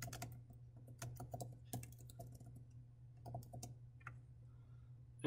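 Computer keyboard typing in brief bursts of quick clicks, quiet and close, with short pauses between runs and a steady low hum underneath.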